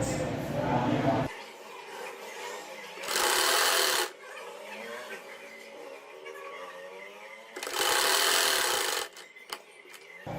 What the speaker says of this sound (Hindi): चलिए अब सिलाई लगाते हैं।